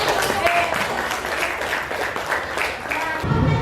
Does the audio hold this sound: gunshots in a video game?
no